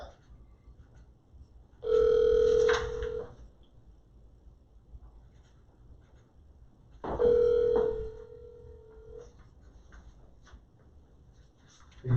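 A telephone call rings out unanswered, two separated bursts of electronic ringing with a long quiet gap between them, clear and moderately loud over a faint room background.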